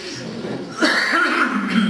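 At a poetry day event in Minsk, a single rough, raspy cough bursts out close by after a quieter stretch, followed by a hoarse throat-clearing rasp.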